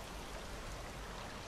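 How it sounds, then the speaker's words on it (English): Heavy, severe rain in the video game Rain World: Downpour, a steady dense hiss of downpour filling the whole moment evenly, with no talking over it. "That's some severe rain right there."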